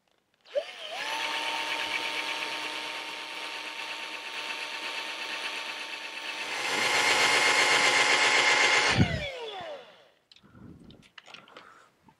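A small power drill whines steadily while boring a 7.5mm hole for a tripod mount into a Logitech C910 webcam, the pitch rising as it works harder, then winding down to a stop, followed by light clicks.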